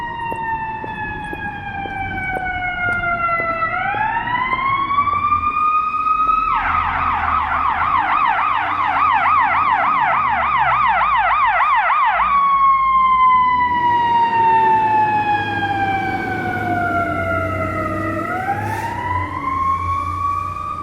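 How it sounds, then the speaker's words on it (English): Emergency vehicle siren on a busy downtown Toronto street, loud and near, wailing up and down then switching to a rapid yelp before returning to a slow wail over traffic rumble. "And then in North America they just like screech down the street."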